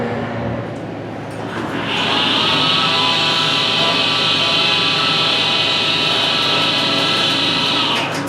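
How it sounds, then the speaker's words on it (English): An Abell hydraulic elevator door operator at a Menards store in Crystal Lake, Illinois starts up and runs with a loud, steady, harsh motor whine and high buzzing tone, close by and unbroken after a quieter start. "listen to that awful door operator"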